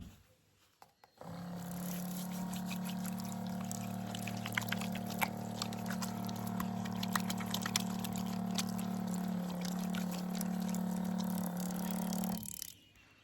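Water pours from a Dometic GO water jug faucet in a steady, continuous stream for several seconds, splashing and gurgling nearby, then cuts off abruptly.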